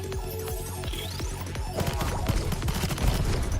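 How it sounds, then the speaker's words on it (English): Rapid crackling bursts of firecrackers explode in Goddess of Victory: Nikke during a school-themed event, a dense rattling volley building over steady background game music. "Firecrackers incoming!"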